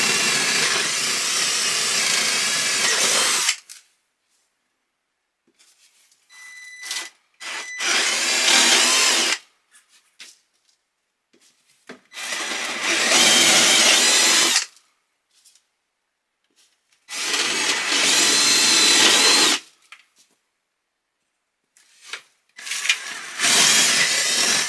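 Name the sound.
power drill drilling holes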